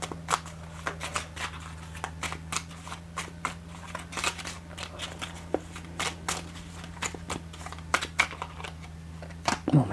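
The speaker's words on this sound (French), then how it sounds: "on va aller vers une petite carte de l'oracle de mission de vie" Oracle cards shuffled and drawn by hand, steady sharp snapping clicks repeating for several seconds, close and crisp over a constant low electrical hum.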